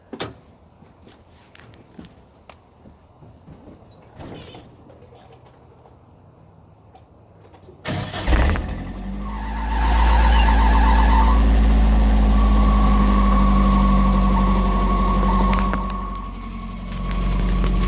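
After some quiet clinking and handling noises, an old truck engine with a rebuilt exhaust cranks and roars to life, then runs loud and rumbling with a deep, uneven exhaust note.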